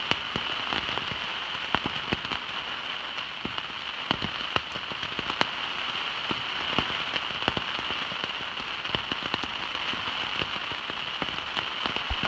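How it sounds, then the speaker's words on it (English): Heavy rain pours steadily on the Appalachian Trail, a dense hiss of drops pattering on a surface with scattered louder taps, continuous and close. "It's starting to rain really hard now."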